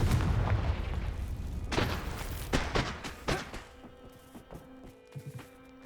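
A fire-blast spell from the Hogwarts Legacy video game explodes in a loud burst of booming, thudding blasts, followed by a few sharper impacts that thin out toward the end.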